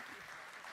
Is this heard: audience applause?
yes